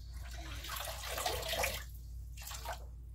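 Water sloshing and splashing in a bowl as hands move through it while washing off makeup, soft close handling with bursts of trickling and a brief pause between.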